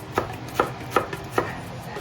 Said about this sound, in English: We're going to get our shallots all cut up.